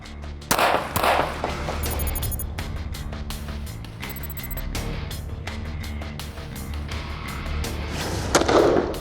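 Gunshots ring out during a defensive shooting drill, a series of loud sharp cracks scattered irregularly over a noisy, busy background with occasional metallic clinks.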